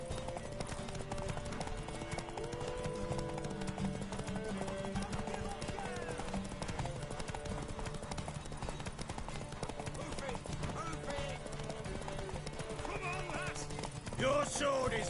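Rhythmic clip-clop of horse hooves at a gallop in The Witcher 3: Wild Hunt, with voices talking and background music over it.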